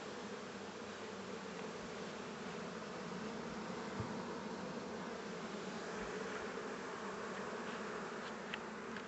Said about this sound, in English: a lot of these bees over here are moving to the wrong spot